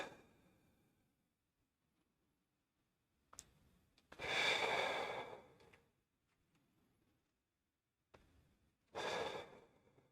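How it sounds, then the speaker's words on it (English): Heavy breaths during a gym strength exercise: two loud, drawn-out exhalations several seconds apart, each with a softer inhale before it, and near silence in between. "make sure you're breathing in and out"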